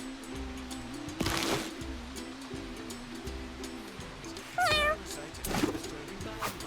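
Cat meows from the Mewgenics video game sound over a low, looping musical background, with a couple of short mewing calls standing out midway and near the end.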